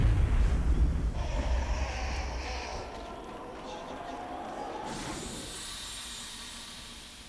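A grenade blows up in the video game XCOM Enemy Within, a loud low rumbling blast at the start that fades into a long hissing, crackling tail, with a voice speaking over it.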